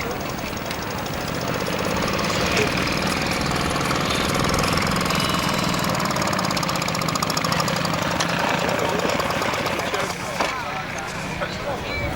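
A vintage motorcycle engine runs and idles at a 1986 vintage motorcycle club meet outside a village pub, a close, steady, knocking chug that holds throughout while voices talk faintly in the background.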